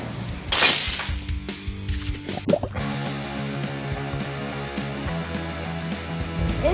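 A tejo puck strikes and bursts a gunpowder mecha target in a sharp, loud bang near the start, followed by a few lighter knocks and a lingering background hum.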